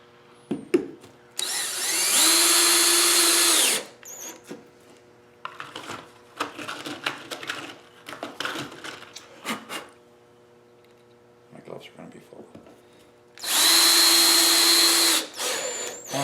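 A power drill drives one-inch screws into a homemade wooden media blasting cabinet, two loud sustained whirring bursts at the start and end, with clattering handling and tapping noises in between.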